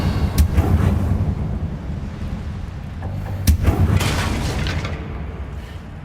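The Confringo explosive spell going off in the Hogwarts Legacy video game, deep rumbling booms with a sharp crack midway, layered over a continuous low roar of combat noise.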